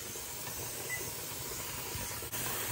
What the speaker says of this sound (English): we need to get all the air out of this canner so it can fill up with steam